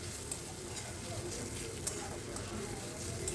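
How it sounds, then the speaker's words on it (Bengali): Sliced onions with green chillies sizzle in a pan, a steady soft frying hiss with occasional small crackles, fairly quiet, with no talk over it. "এইভাবে পেঁয়াজটাকে মোটামুটি 1 থেকে 2 মিনিট একটু ভালো করে ভেজে নিতে হবে।"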